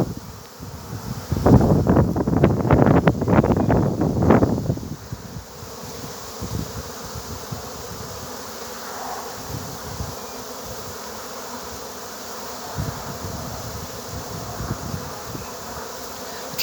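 A swarm of honeybees fanning at the hive: a dense, steady buzzing drone throughout, with a louder burst of close flight and rustle early on, then an even background hum with light wind.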